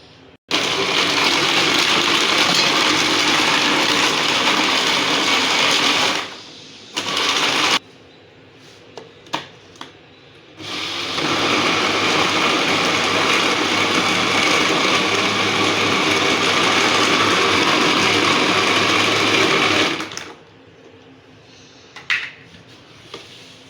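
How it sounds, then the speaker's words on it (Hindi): A kitchen blender whirs loudly as it blends milk and sugar, running in one long burst, a short pulse, then a second long run, with quiet clatter in the pauses. "ये दूध हम इसको ब्लेंड करेंगे।"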